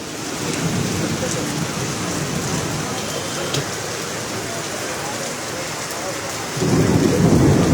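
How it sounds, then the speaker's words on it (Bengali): Heavy rain pours steadily and loudly, a dense close hiss on surfaces, with thunder rumbling low underneath, swelling louder near the end. "আবার মেঘও গড়গড় বাজ পড়ছে"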